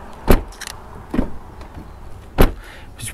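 Three heavy, solid door slams on a 2023 BMW 540i, spaced about a second apart, each a deep thunk, with quiet pauses between.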